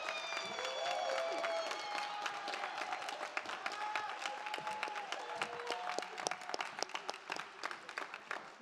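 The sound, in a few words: graduation ceremony audience applauding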